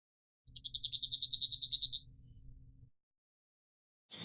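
Yellowhammer call: a rapid stuttering series of high chirps followed by a single higher drawn-out note, heard alone and close with a pause and brief sound after.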